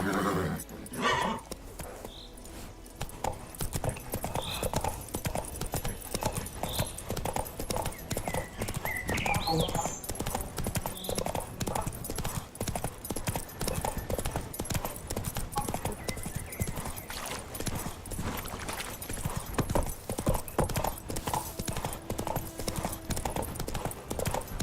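Roach the horse galloping in The Witcher 3, rapid continuous hoofbeats with occasional whinnies and snorts over game ambience, steady and prominent throughout.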